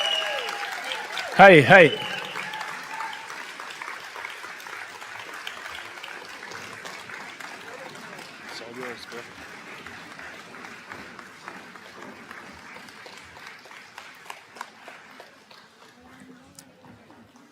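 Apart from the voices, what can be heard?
audience standing ovation applause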